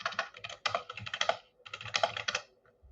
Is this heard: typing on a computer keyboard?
yes